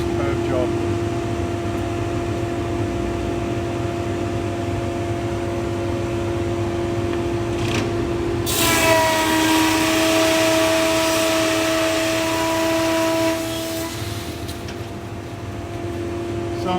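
A Woodman PT310HH combination planer thicknesser runs with a steady loud drone and whine, its tone rising and straining for several seconds as it takes a heavy cut through figured timber, then settling back.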